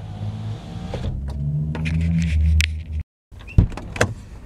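Car door sounds as someone climbs out of a car: rustling movement and a whirring motor, then the door thuds shut, a brief silence, and a couple of sharp knocks and clatters afterward.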